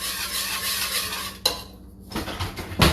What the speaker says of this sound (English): Making sure it's all stirred together.